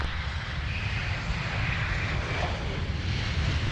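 An airplane takes off from runway 17 at MSP airport, a continuous loud, rumbling jet roar with a broad hiss that holds steady throughout.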